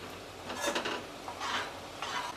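Homemade spice masala and turmeric being sautéed with onion in a pan, with soft scraping stirs and light clinks of a utensil against the pan over a faint sizzle.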